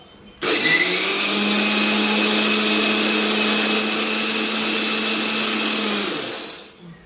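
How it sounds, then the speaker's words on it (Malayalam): A mixer grinder starts abruptly and grinds soaked vadakkan rice into dosa batter, its motor whirring loud, close and steady for about six seconds before winding down. "നമുക്കിത് എല്ലാം അരച്ചെടുക്കാം"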